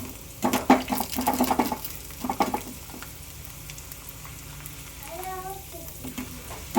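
Peanuts frying in a pan, bursts of crackling sizzle and stirring scrapes in the first half easing into a quieter steady frying with a faint tonal sound near the end.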